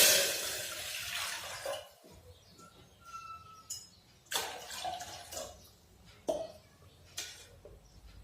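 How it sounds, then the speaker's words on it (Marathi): Water poured into a pressure cooker on a gas stove, an initial rush of pouring that tapers off, followed by scattered clinks and splashes of metal and water, close and fairly quiet. "आता आपण कुकर मध्ये पाणी टाकूया।"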